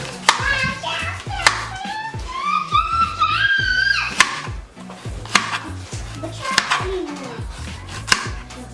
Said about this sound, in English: now I'm just gonna cut the rest of my vegetables